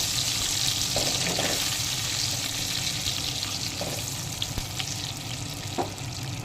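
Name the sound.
peanuts lightly frying in a pan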